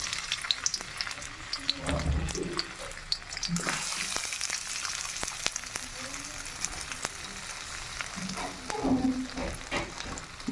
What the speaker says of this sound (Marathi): बटाटे फ्राय होत आहे।